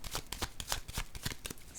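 A tarot card drawn from the deck during a reading, a quick run of papery flicks and slides close by, with soft rhythmic card-handling rustles throughout.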